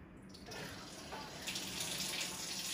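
Water runs steadily from a Kangen water machine set to pH 9.5, a continuous close hiss and splash like a tap filling a glass, beginning about half a second in and holding through to the end.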